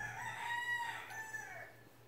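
A single rooster crows in one drawn-out, wavering call lasting about two seconds, at moderate volume in an outdoor yard after a hurricane passed through, with a low steady hum underneath.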